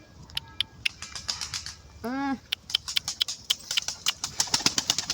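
A pigeon beats its wings in a rapid series of sharp, close flaps amid a brief vocal squeal and other ambient noise, with no clear talk.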